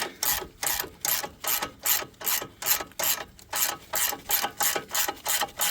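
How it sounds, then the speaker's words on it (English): A hand ratchet snugs the 21 mm frame mounting bolts of an ICON upper control arm on a Ram 1500, about fifteen quick, evenly spaced clicking strokes, close and loud, with no voice. "Tighten these down to the point where it's snug, and then we will finish it off with a torque wrench."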